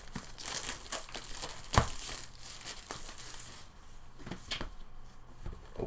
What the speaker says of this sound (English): Get the plastic off here.